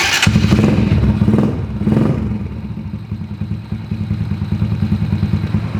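A custom Honda Kirana street cub motorcycle engine, loud and near, revving briefly near the start, then settling into a steady, lumpy single-cylinder idle with rhythmic pulsing.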